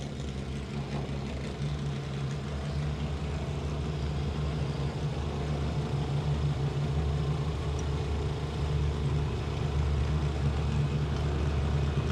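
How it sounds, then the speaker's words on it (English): Steady low engine drone from Pro 4 modified race cars circling Grand Bend Speedway at a distance on warm-up laps, a continuous rumble with no clear passes standing out. "We're going to give them a couple extra laps here again to get some heat in the tires"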